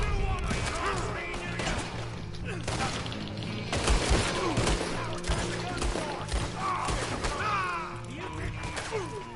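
Rapid gunfire in a Red Dead Redemption 2 shootout, dense bursts of shots and impacts cracking one after another throughout, with a voice speaking over the action.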